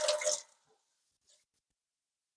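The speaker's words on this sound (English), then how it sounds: "I'm just gonna dump out that residual water" Leftover water poured out of a seed sprouter tray into a sink, a brief splashing gush that stops abruptly, then silence.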